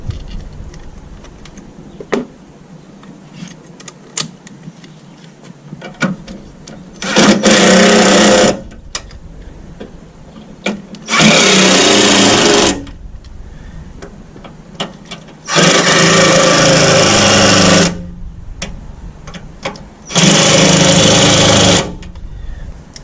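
A power tool tightening bolts while installing a Rugged Ridge Spartacus HD tire carrier, four loud whirring bursts of a few seconds each, separated by quieter pauses with small clicks and handling noise.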